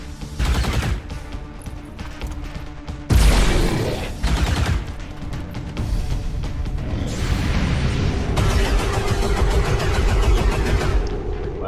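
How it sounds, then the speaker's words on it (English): Rail pistol fire and combat effects in the video game XCOM 2, loud bursts of shots and impacts, with a sharp blast around the middle followed by sustained rumbling action. "get over here and take a shot with your new rail pistol"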